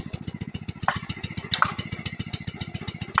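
An irrigation pump set engine running for a potato field in Champadanga, Hooghly gives off a fast, even chug of regular pulses, loud and close, with no voices.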